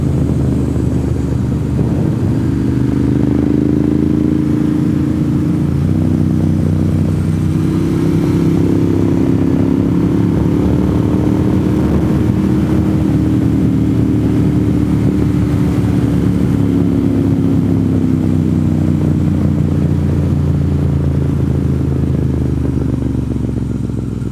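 A motorcycle engine drones steadily and loudly throughout, its pitch rising and falling gently as the bike rides along, heard up close.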